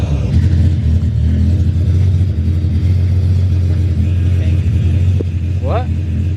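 A built Nissan 350Z idles and revs with a loud, steady low exhaust drone filling the whole stretch, while people talk over it.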